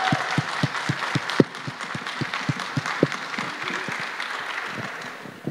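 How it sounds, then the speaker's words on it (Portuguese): Wedding guests clap for the newlyweds at a livestreamed ceremony, a scattered round of individual claps at moderate distance that holds steady for several seconds with a few sharper hand strikes standing out. "Uma salva de palmas ao casal."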